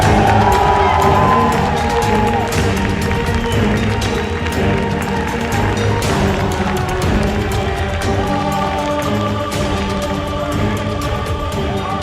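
A large crowd at the ESL One New York 2014 Dota 2 grand final cheers and shouts loudly and continuously as a team is welcomed, with whoops rising over a steady roar of voices.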